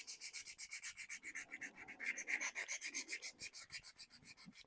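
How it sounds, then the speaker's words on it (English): Rhythmic wet sanding of a painted 3D-printed part for an SCX24 model with 400 grit sandpaper and water: close, steady back-and-forth rasping strokes, quiet and alone. "400 grit sandpaper."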